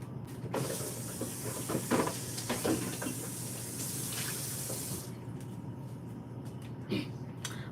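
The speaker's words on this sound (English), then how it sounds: "I'm gonna rinse this real quick." Running tap water rinsing a container during homemade butter and buttermilk making, a steady close splashing hiss for about five seconds that then drops to quieter trickling and a few brief clunks.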